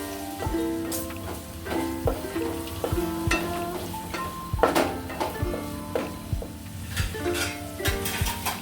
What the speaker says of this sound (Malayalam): ഇതിൽ വെള്ളം തോരാൻ വെച്ച അരി ചേർത്ത് നല്ലതുപോലെ ഒന്ന് ഫ്രൈ ആക്കണം